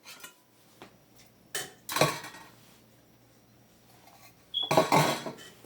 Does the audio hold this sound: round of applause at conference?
no